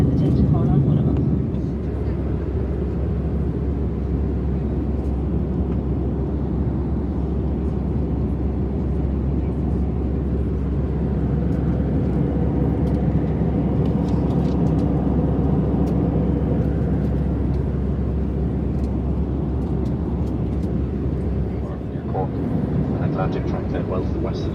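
Steady cabin roar inside an Aer Lingus Airbus A320 airliner in flight, a dense broadband drone with a strong low hum that continues unchanged throughout, with muffled voices faintly present underneath.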